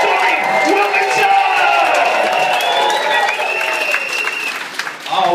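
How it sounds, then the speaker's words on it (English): Audience at a comedy show in Leeds claps hard and cheers, a loud sustained burst of applause with whoops and shouts throughout, easing slightly toward the end. "Double the volume of that applause."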